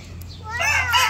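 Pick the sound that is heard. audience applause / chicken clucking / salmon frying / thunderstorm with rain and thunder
chicken clucking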